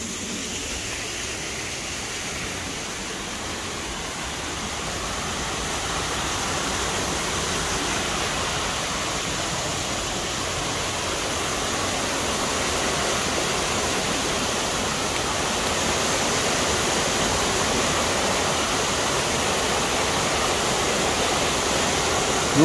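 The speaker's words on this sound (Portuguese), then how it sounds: "é o início da cachoeira" The Buraco do Padre waterfall near Ponta Grossa, Paraná, Brazil, roars steadily and loudly, a dense unbroken rush of falling water that grows slightly fuller as it goes on.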